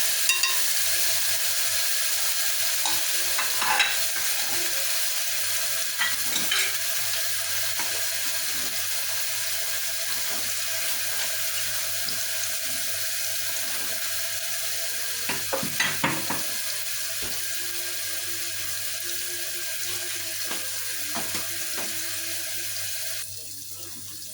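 Food fries and sizzles steadily in a pan, browning for a traditional Egyptian lunch of chicken with molokhia and vermicelli rice, a constant close hiss broken by occasional scraping stirs and utensil taps, with no talk.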